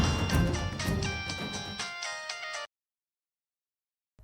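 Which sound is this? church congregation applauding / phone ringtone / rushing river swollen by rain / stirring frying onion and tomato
phone ringtone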